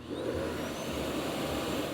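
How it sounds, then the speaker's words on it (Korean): Roborock Qrevo EdgeC multifunction dock auto-emptying a robot vacuum's dust bin, a steady whooshing suction roar at moderate loudness, continuous with no talk. "자동으로 먼지를 비워주고 먼지통을 비우는 중입니다."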